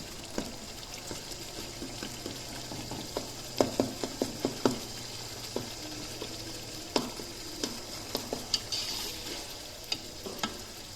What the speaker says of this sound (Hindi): थोड़ा सा इसे मैश कर लें इसके टोमेटोज़ को, और देखें ऑयल भी रिलीज़ हो गया इसके अंदर से